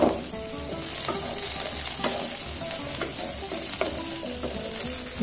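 Cluster beans and prawns fry in a hot pan, giving a steady, close sizzle with occasional clinks and scrapes of stirring. No voices are heard.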